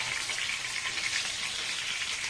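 Chilli chicken pieces frying in hot oil until golden brown, giving a steady, even sizzle that holds close and constant with no voices.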